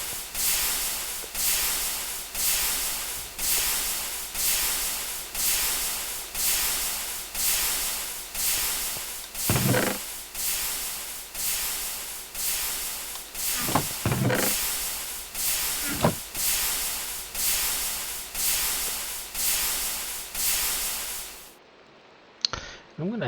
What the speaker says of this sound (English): Oh yeah, we're really making steam now.